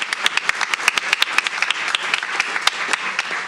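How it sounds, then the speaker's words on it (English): An audience at a school board session claps in a round of applause, a crisp, fairly loud patter of hand claps running for a few seconds without speech. "Round of applause for Chris."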